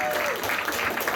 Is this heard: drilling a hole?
no